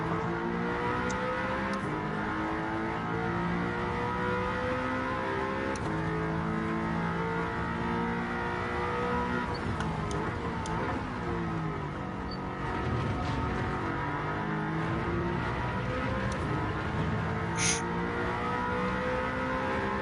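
A race car engine in Gran Turismo 7 drones and revs continuously at close range, pitch rising and falling through shifts and corners, loud and steady with no talk over it.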